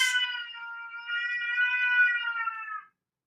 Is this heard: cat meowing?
yes